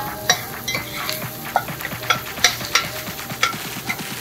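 Peppers and onions hiss in a hot pan while a utensil scrapes and stirs them, giving a steady sizzle broken by regular close scraping strokes and light metallic taps.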